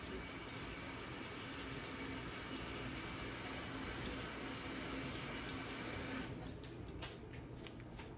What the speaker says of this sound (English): All she's doing is just getting the whey off, kind of squishing down